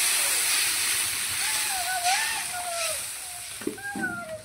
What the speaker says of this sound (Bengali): এবারে মাছ অনুযায়ী পানিটা দিয়ে দিব।